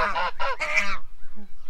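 Several loud, close geese honk in quick succession, a burst of harsh nasal calls followed by a quieter honk and another call starting at the end.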